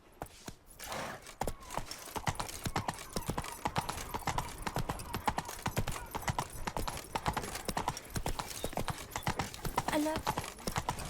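Hooves of Roach, the horse in The Witcher 3, clip-clop at a steady trot through Beauclair for several seconds, close and fairly loud, with a voice speaking over part of it.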